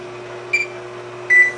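Kitchen timer set for an ice cream maker, giving two short electronic beeps over a steady low appliance hum, the second beep longer and louder.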